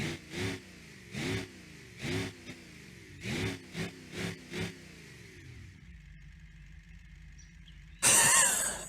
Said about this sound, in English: I love how the turbo holds boost when it spools